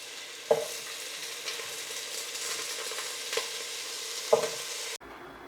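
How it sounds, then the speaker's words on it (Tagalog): Papaya pieces tipped into a pan of tinola, a Filipino chicken soup, giving a couple of sharp thuds and clatters over a steady low sizzle, with no voices. "Ilagay ko na rin guys ang papaya."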